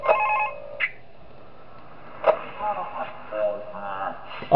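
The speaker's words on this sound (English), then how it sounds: "Oh, we get a phone call." Phone rings in the horror video game Five Nights At Thomas's 3, giving a few short electronic trills spaced out over several seconds, fairly loud against a quiet background.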